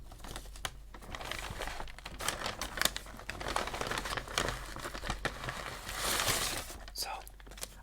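Close, continuous crinkling and rustling of a McDonald's paper lunch bag being opened, with soft whispering woven through the crackle.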